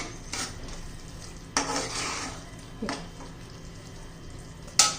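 Spinach, coriander and green chilli being stirred in a pan, with spatula scrapes and clinks against the metal at a few separate moments over a soft background sizzle.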